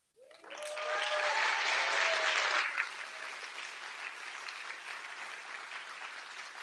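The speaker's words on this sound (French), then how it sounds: "un grand applaudissement parce que sans Atina, rien ne tiendrait sur les pieds." Audience applause fills a festival closing ceremony, a sustained burst of many hands clapping that swells quickly, holds loudly, then eases to a lighter steady patter while voices call out over it.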